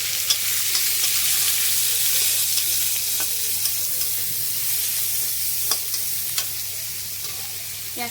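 Two onions fry in hot oil with nigella seeds for a spicy eggplant and prawn dish, giving a dense, continuous close sizzle with a few soft clicks of stirring.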